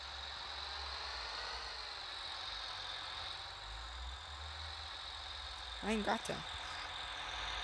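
A tractor engine in Farming Simulator drones steadily at idle with a constant low hum, and someone speaks briefly near the end.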